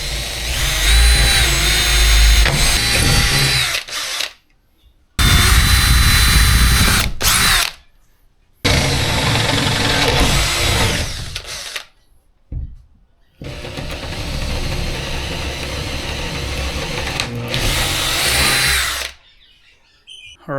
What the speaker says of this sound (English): But got the holes drilled out here.